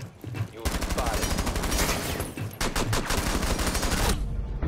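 Video game gunfire erupting in rapid automatic bursts, loud and dense, with a short pause midway before another long volley and a brief gap near the end.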